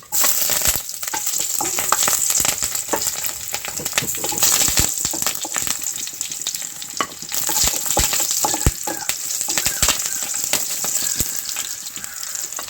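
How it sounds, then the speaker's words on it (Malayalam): Mustard seeds with cut dried red chilies and split green chilies frying in coconut oil for a mango coconut-milk curry, a steady loud sizzle with sharp pops and crackles throughout, no talking. "ഇനി അതിലേക്ക് കടുകിടുക. ഇനി ഇതിലേക്ക് വറ്റൽമുളക് മുറിച്ചത്, പച്ചമുളക് പൊളർന്നത്,"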